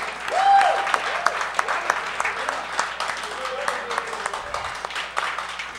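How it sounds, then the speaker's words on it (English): Audience applause at a music circle event, a dense crowd clapping that swells early and then continues steadily, with a voice speaking over it. "Give yourself a big round of applause"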